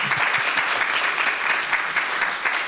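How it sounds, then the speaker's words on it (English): An audience at a think-tank conference applauds the panelists with a brief, dense burst of clapping from a sizeable crowd, even and unbroken with no voices on top. "Let's applaud the panelists"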